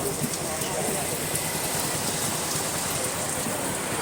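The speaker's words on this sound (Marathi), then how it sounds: "पाऊस तर पडतोय पाऊस येतोय" Rain falls steadily, a constant close hiss of drops hitting surfaces that never lets up across the whole stretch.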